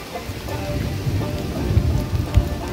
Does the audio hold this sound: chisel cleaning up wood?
no